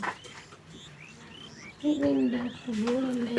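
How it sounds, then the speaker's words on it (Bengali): Egrets and mynas calling on an early winter morning, with a series of short bright chirps and tweets scattered through the clip, fairly distant, before a louder low tonal sound joins in the second half. "এই দেখুন দুটো বক পাখি এসেছে শালিক পাখিগুলো উড়ে উড়ে বেড়াচ্ছে এবং পোকা ধরে খাচ্ছে"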